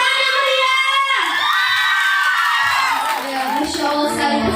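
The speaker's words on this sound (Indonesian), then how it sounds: "Beri tepuk tangan yang meriah." An audience at an Isra Mi'raj speech contest cheers and shouts, children's voices prominent in a loud sustained burst of crowd noise with some clapping underneath.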